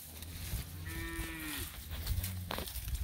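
Cattle in a moving mob on grazing pasture moo in a long, drawn-out call that rises and bends, with lower bellows and herd rustle around it. A second call is fainter and comes from farther off.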